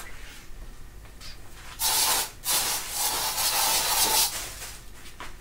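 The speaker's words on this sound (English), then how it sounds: "Actually, I'll just spray it." Insect spray hisses from an aerosol can onto ants in a box in a garage, two loud sustained bursts split by a brief pause, close to the microphone over quiet background.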